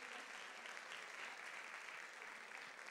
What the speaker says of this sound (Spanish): ¿Puedes dar un aplauso al Señor?